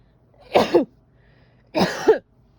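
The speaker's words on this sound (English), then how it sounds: "I gotta sneeze, hold on." Two sharp bursts close to the microphone, the first a sneeze and the second another sneeze or a cough, separated by a short pause.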